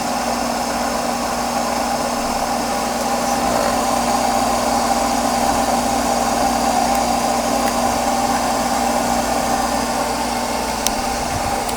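A DC electric motor drawing about 15 amps runs steadily, spinning an alternator with a continuous whirring hum and a faint high whine, close and constant throughout with no talk.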